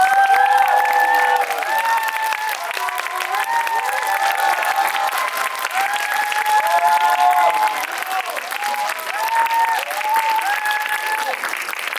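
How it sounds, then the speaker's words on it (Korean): An audience at a Korean film talk event for the movie Count applauds the director's arrival, sustained clapping with scattered whistles and cheers running steadily for about twelve seconds. "큰 박수로 모시도록 하겠습니다"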